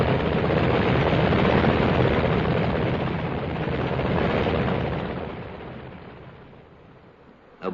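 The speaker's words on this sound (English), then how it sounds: "Yet very soon, 2 helicopters are taking off to bring back samples of seawater from the lagoon." Two helicopters lifting off on a lagoon island at a 1953 British atomic test site, a heavy, rumbling roar of rotor and engine that swells, eases and fades, on an old muffled recording.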